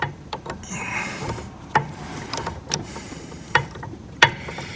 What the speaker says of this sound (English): I think I might need to get a ratchet back there and turn it.